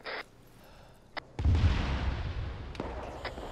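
A loud, rumbling Arma 3 explosion bursts in after a few short pops, then a broad roar lingers and slowly fades, with small cracks scattered through it.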